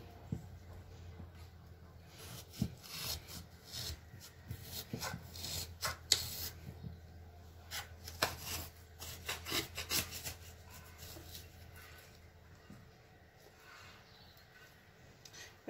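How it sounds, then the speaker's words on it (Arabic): A knife scraping and sawing into frozen homemade ice cream made without cream, with repeated soft rasping and rubbing strokes and a few sharper scrapes, close and fairly quiet, no talking. "صافي غادي نجرب دابا هذا الموس، هذا غادي نحاول نقطعو."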